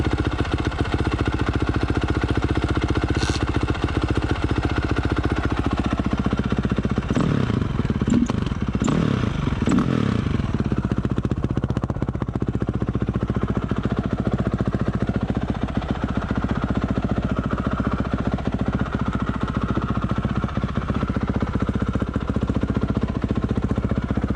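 A 2006 Honda CRF450R dirt bike engine idles steadily up close, a continuous four-stroke thrum with a brief burst of clatter and revving partway through, then settling back to an even idle.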